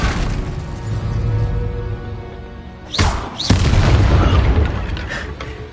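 An Incendio fire spell goes off in Hogwarts Legacy, two quick fiery blasts landing close together midway amid ongoing game noise and rumble.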